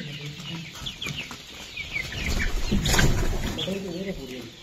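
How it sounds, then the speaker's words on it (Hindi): Quail and young Aseel chicks in a poultry brooding area chirp and cluck in a busy, continuous chorus, with a few brief flutters rising toward the middle and a voice speaking faintly underneath. "ये देखिए ये पक्षी है,"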